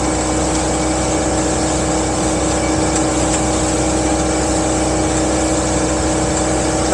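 A Mercruiser MPI boat engine with bucking and stalling trouble at cruise speed roars steadily under increased throttle, a loud constant drone with wind and water noise and no talking.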